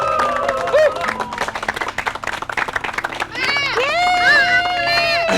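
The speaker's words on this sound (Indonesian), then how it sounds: "Tepuk tangannya mana?" Scattered applause from a stage award ceremony audience, clapping running under excited voices and children's chatter, with a host talking loudly over it.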